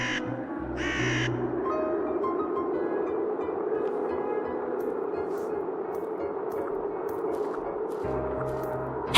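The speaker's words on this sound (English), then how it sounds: "You scared away the birds." Crows in the video game The Whispered World caw twice, near and loud, over a steady low rumbling ambience, with a scatter of faint clicks later in the scene.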